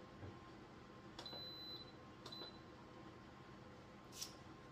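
An electric cooker being switched to its saute setting gives three short, thin beeps spread over a few seconds, fairly faint against a steady low background hum.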